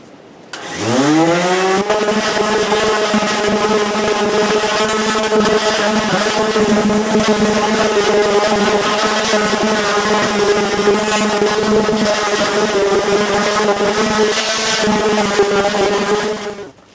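An electric sander scuffs the bed surface of a Honda Pioneer UTV before epoxy bed liner goes on, spinning up within the first second into a loud, steady whine that holds close and unbroken before cutting off near the end.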